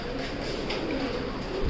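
Fancy pigeons cooing at a pigeon farm in Ahmedpur, Natore: soft, steady murmuring coos close by under a constant low background hum, with no talk.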